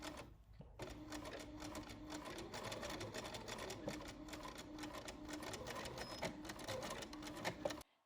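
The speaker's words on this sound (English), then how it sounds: "I'm going to move the fabric over and continue to sew" Sewing machine running steadily while edge stitching a continuous lap along the fabric of a blouse sleeve cuff, a close, even mechanical whir with rapid needle ticking that stops abruptly near the end.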